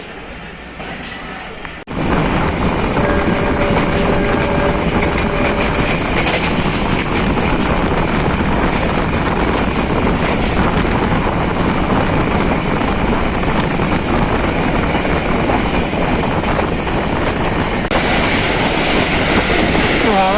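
Jaffar Express passenger train rolling toward Lahore, heard from inside as a loud, steady rumble with rattling carriages and faint clickety-clack that swells after a brief quieter opening and holds throughout.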